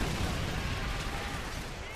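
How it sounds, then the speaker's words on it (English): Dense, continuous rumbling battle noise from Call of Duty 3, with explosions and gunfire blending into a loud wash throughout. "There's explosions going everywhere."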